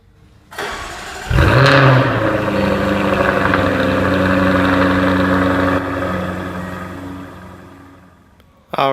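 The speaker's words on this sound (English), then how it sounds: "let's get into the car, start it up, and see how it sounds." A 2015 Jaguar F-Type R Coupe with a 5-liter supercharged V8 fires up with a sharp, loud crack and rev flare, then settles into a steady, deep idle that drops slightly in level before the end.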